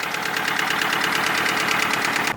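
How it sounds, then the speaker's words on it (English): A rough, blown car engine in a video game idles loudly and steadily, with a fast rhythmic knocking pulse running throughout. "It's got a blown engine."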